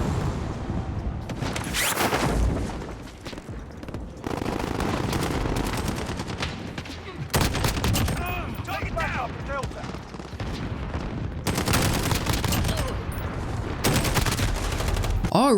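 SCAR-17 rifle fire in the video game Modern Warfare: rapid bursts of loud gunshots and automatic volleys with booming impacts, separated by short lulls and followed by more firing.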